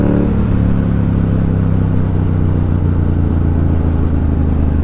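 A 2018 Yamaha MT07 motorcycle with a Ransoto exhaust revs loudly and close, its engine note holding high and then easing down slightly as it settles.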